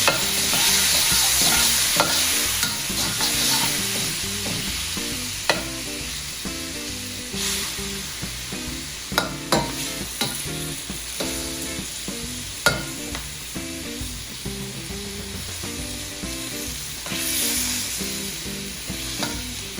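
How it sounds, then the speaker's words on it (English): Beef sizzles steadily in a hot wok while a utensil scrapes and clatters against the metal now and then, with no voices. "salt and pepper on a piece of beef, stir frying in a wok smells delicious."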